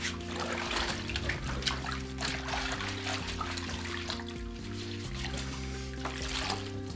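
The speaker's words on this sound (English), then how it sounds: "Put them in the bathtub. Just let them soak. And use a scorer, like this one," Gear soaks in bathtub water while being scrubbed, a continuous close trickling and sloshing with soft splashes throughout, no voices.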